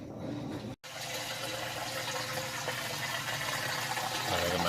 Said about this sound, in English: It's draining out.